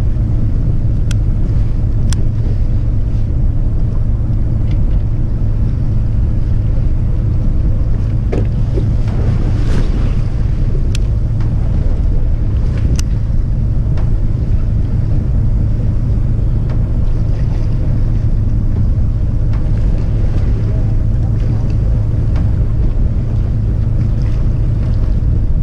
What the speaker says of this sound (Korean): 파도가 점점 더 세지네요.